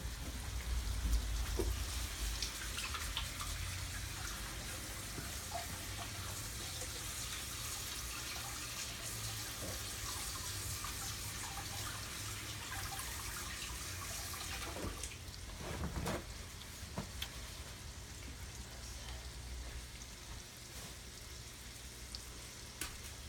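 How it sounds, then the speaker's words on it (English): Hands are washed under a running kitchen tap, a steady, faint hiss of flowing water that continues throughout with one brief splash or knock near the end. "I gotta wash my hands."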